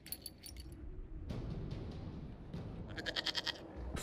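A goat bleats in Dragon Age: Inquisition, a few short wavering bleats, with a louder rapid burst of repeated bleats near the end, heard over a steady game-ambience background.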